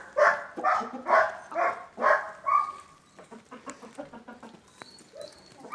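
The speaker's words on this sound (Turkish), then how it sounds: "Bu horoz bu horoz o e, civcivlerin horozu arkadaşlar" A rooster kept with chicks gives a run of four or five loud, harsh calls close by, followed by softer clucking and scattered small noises from the flock.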